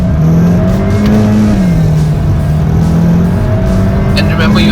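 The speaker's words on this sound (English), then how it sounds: "So if you just release the brake pedal now, this is how it takes off." A Jeep Compass with a 1.4 petrol MultiAir engine and automatic gearbox pulls away from standstill. Its engine hum rises and falls in pitch, loud and close throughout, as the car accelerates.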